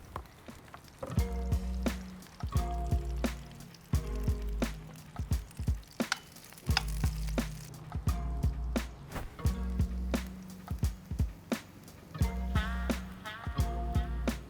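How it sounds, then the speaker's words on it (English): Garlic and chili with a splash of coconut oil hit a hot pan, giving soft crackles and spits in short bursts with repeated light clatters of a pan or utensil, close and fairly quiet, with no talking. "we're going to go in with our garlic, with our chili, and then a little glug of oil"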